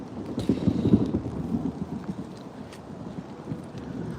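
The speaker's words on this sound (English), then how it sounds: "It is, starting to rain a little bit" Light rain begins falling in a home garden, a soft patter under gusty wind rumble, stronger at first and then easing to a quiet, steady background with no talking.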